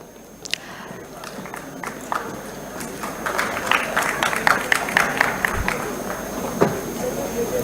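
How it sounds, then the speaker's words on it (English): Audience applause at a pharmaceutical intellectual property conference grows from scattered claps into a fuller, steady round of many hands, with some footsteps and faint voices mixed in. "Give a huge round of applause for ma'am."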